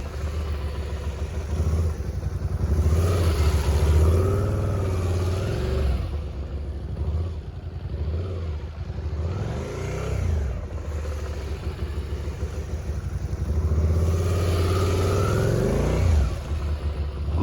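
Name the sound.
motorcycle engine and throttle during slow-speed riding practice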